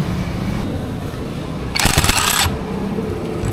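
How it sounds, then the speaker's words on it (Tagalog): A socket wrench loosening the 19mm torque drive nut on a Honda Beat FI scooter, one short harsh burst of metallic ratcheting and clatter rising over a steady workshop background hum. "Gagamit tayo ng 19mm na socket wrench."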